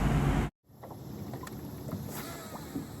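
A fishing boat runs on its outboard motor through the shallow back waters of Dallas Bay on Chickamauga Lake. A loud burst at the start cuts to a brief silence, then a steady, moderate motor rumble mixed with wind and water noise continues.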